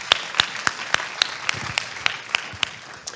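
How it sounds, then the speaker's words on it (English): At a reading event, sharp, evenly spaced claps ring out one after another, close and fairly loud, like a small group or single person clapping in rhythm. "round of applause for all of you"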